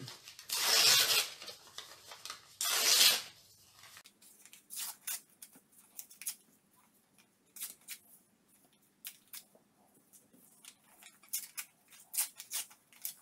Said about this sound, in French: Vous faites la forme que vous voulez pour vos morceaux de papier déchirés.